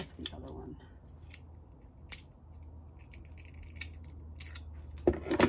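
Small mosaic pieces being trimmed at the corners with a cutting tool while making a mosaic bee, a few sharp snipping clicks spaced apart with a louder crisp snip near the end, close and quiet.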